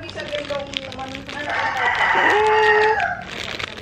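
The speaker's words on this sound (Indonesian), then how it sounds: "Kok seharian katanya kukuruyuk terus. Nggak diem." A rooster crows nearby, one long rising and falling call sounding over faint background household noise.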